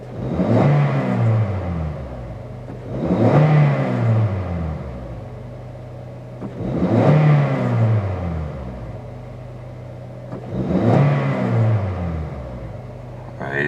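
A Toyota Corolla engine, cold and said to misfire when cold, revs up and settles back four times in a steady cycle, each rise a rough, throaty surge before dropping to idle.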